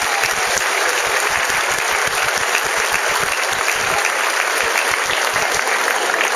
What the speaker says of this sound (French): on peut applaudir les bénévoles